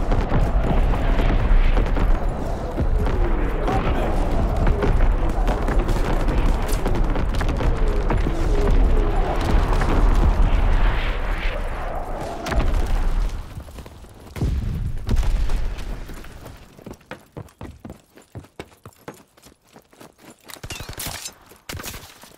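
Heavy rolling booms of an artillery barrage in Call of Duty: WWII, loud and continuous for about twelve seconds before thinning into scattered blasts and sharp crackling debris.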